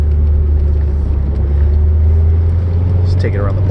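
A 1981 Chevrolet Corvette engine runs with a steady, loud low rumble that holds constant throughout, with a brief higher whine near the end.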